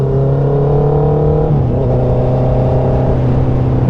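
A Honda CB650R motorcycle engine drones loudly and steadily while riding, its pitch stepping down once as the rider shifts, with constant wind and road noise.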